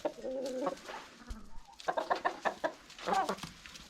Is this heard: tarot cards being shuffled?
no